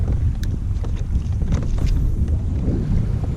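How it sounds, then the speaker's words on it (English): Wind blows across a lake at a dock, making a low, steady rumbling buffet against the microphone with faint splashy ticks and no voices. "the wind's picking up"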